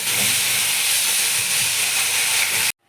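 Salted shrimp frying in hot oil until red produces a loud, dense hissing sizzle that holds steady for under three seconds and then cuts off abruptly.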